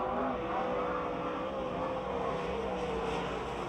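A race car lapping at Pennsylvania Motor Speedway gives a continuous distant engine drone that holds a fairly steady pitch, with no talk.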